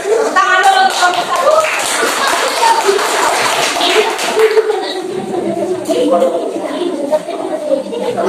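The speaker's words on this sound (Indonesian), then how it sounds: "Tepuk tangan dulu untuk kelompok" Classroom students clap for the first presentation group, a loose patter of hand claps mixed with chatter and a little laughter, running steadily throughout at close range.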